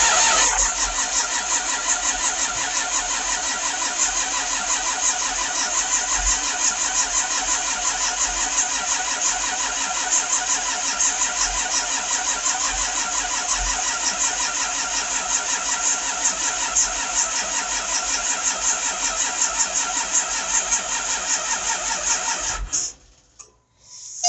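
A cold engine with a sticky solenoid and weak battery cranks on and on in a steady, labored churn for over twenty seconds. It stays loud and close, then cuts off abruptly near the end.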